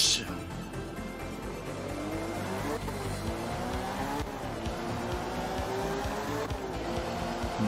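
An Art of Rally car driving hard, its engine droning and revving steadily with gear shifts and tire noise on a loose surface, loud and continuous from start to finish.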